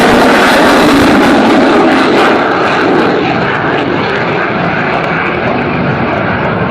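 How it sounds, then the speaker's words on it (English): Saab Gripen fighter jet accelerating from low to high speed during a flight demonstration, a loud, sustained roaring jet engine rumble that stays steady and broadband throughout, with no talk over it. "the acceleration of the aircraft from low speed to high speed"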